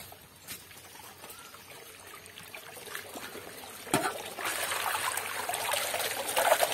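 Tap water trickles and splashes nearby while two raw mangoes are rinsed for pickle. The flow is soft at first, then grows louder and steadier with splattering toward the end.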